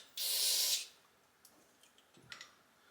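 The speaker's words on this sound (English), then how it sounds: "let's spray some of this" One short, loud hiss of an aerosol spray on a snowblower that won't start, about half a second long, followed by faint clicks and light handling noises nearby.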